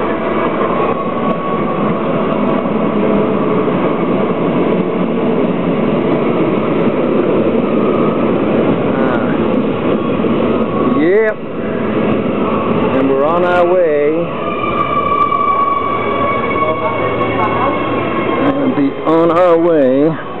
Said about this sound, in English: Here comes the metro.